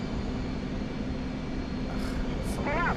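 An F-15E jet rolls and takes off in the DCS World flight simulator, heard as a steady, loud engine roar throughout, with a couple of brief cockpit tones near the end.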